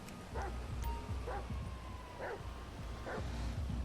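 Chop the dog barking in Grand Theft Auto V, four evenly spaced barks at moderate distance over a low game background hum.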